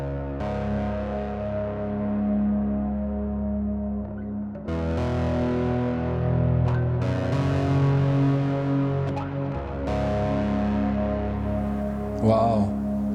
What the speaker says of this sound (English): Let me add a little bit of reverb and delay there.